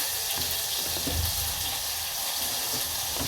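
Vegetables sizzle steadily while frying in a pan, a continuous close crackle and hiss with faint watery clatter underneath and no voices.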